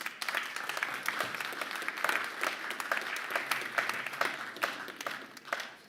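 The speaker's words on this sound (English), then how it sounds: "round of applause, please, for the reigning champion" A crowd at the Six Nations rugby launch event at The Hub in Edinburgh applauds the reigning champion France with sustained, moderately loud clapping and individual hand claps standing out over a continuous wash.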